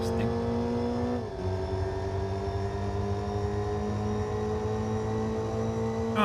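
A Mazda Miata's engine in the racing game Gran Turismo 4 holds a steady, buzzing drone whose pitch drops briefly early on, as if shifting gear, then continues evenly at a constant level.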